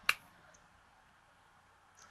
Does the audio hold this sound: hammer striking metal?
no